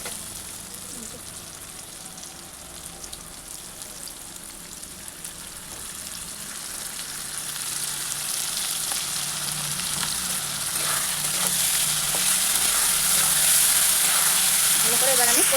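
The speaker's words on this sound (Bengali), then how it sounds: "এবার আমি দিয়ে দেবো বেটে রাখা মশলাটা" Ground spice paste sizzles loudly in hot oil in a wok over already-fried onions for banana flower and prawn ghonto, a steady bright crackle that grows louder in the second half, with no talk.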